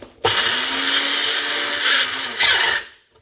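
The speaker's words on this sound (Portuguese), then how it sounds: "vou tentar ralar aqui assim nessa maquinazinha" A small electric grating machine grinds cooked alcaiocas, starting abruptly with a steady, buzzing whir that surges briefly near the end before cutting off, close and alone.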